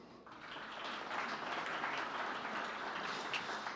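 An audience at an event claps steadily throughout, a dense, even patter of applause that holds at a moderate level.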